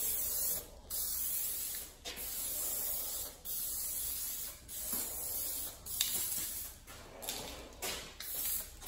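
Aerosol spray paint hisses onto a chrome surface in repeated bursts of a second or so, each separated by brief pauses, close and fairly quiet.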